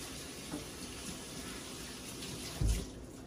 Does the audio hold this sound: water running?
yes